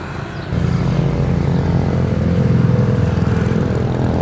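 Motorcycles speed past on a busy road beside a bridge in Bicol, a steady loud engine drone swelling after a brief quieter start and holding close through the clip, with traffic rumble underneath.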